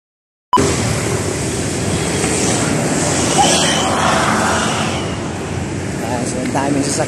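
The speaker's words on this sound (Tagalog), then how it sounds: "So ang daming sasakyan." Steady roar of traffic along a dark street on the way to a market, vehicles passing continuously at close range, with a voice talking over the noise.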